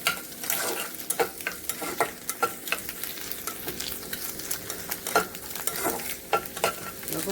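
Egg bhujia, scrambled egg, stirred and fried in a pan: a constant sizzle under repeated scraping strokes of a spatula, close and fairly loud, with no talk.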